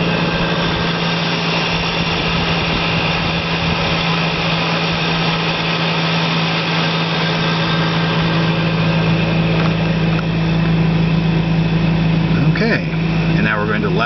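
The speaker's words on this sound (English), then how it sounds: "holding it at the same RPMs as it was before," The electric motor of a Daytona EV runs steadily at about 3,400 RPM, a loud, constant whirring drone with a sustained tonal hum that barely changes throughout.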